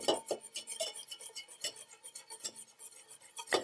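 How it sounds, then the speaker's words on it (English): A whisk scrapes and clinks rapidly inside a pot of coconut milk, stock and instant mashed potatoes, a close, quick metallic rhythm of taps and swishes with no talking. "And we're going to whisk it around."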